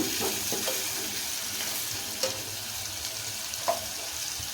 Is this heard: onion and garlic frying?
yes